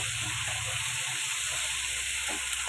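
Shrimp frying in a pan for a Bengali shrimp curry with green banana, giving a steady soft sizzle and hiss with faint stirring, close and continuous, no voices.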